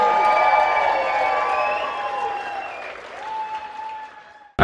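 Wedding guests give the newlyweds a burst of applause with cheers and whistles, loud at first and then tapering off over a few seconds, a single voice calling out near the end.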